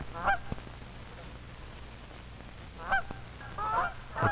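Wild geese honk in flight over a hunting area, giving short bursts of nasal honks that sound fairly distant, at the start and again near the end, against a quiet outdoor background.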